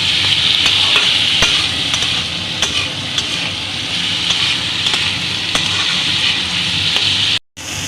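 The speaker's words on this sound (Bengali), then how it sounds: "এবার রাঙা আলুটা দিয়ে আবার ভাজছি।" Sweet potato and bitter gourd fry in a pan, a loud, continuous sizzle broken by scraping stirs and occasional sharp ticks of the spatula, close up with no talking.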